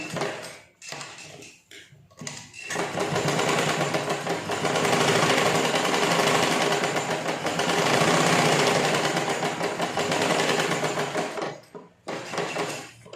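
A sewing machine runs steadily for about ten seconds, stitching tucks on a double-layered blouse fabric, loud and continuous with brief pauses near the start and end.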